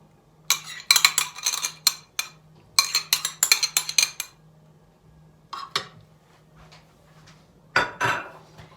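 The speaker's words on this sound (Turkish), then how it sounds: "Güzel sarımsaklı yoğurt üzerine döküyorum. Bir nevi mantı tabii ki. Böyle güzel karıştıralım." Utensils clink and scrape against a serving plate as noodles are mixed with garlic yogurt, a homemade manti-style dish, in bursts of busy clatter separated by short pauses, close and fairly loud.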